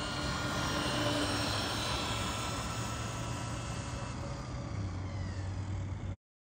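Laegendary Thunder RC car on its stock LiPo driving at full throttle, a loud, steady, high-pitched electric motor whine lasting about six seconds before cutting off abruptly.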